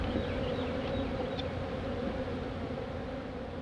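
A dense, steady buzz of many honeybees at an open winter hive fills the scene, close and continuous, with no voices.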